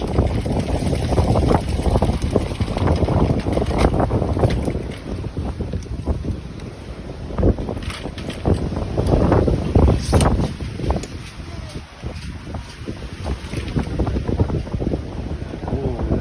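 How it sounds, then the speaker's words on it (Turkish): Strong, steady wind roars and buffets the microphone, with a boat's rumble and water sloshing underneath throughout. "Çok rüzgar."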